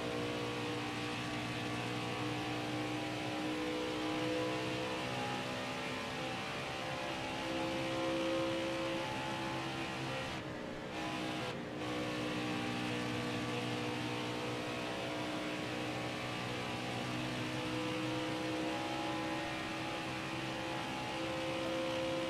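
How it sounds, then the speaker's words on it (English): Engine of a Cup stock car in The Perfect Line racing video game at Las Vegas Motor Speedway, chattering from lag: a steady, loud, buzzing drone that holds throughout, with two brief dropouts in the middle and no talk. "The motor sound is just chattering because of your lag."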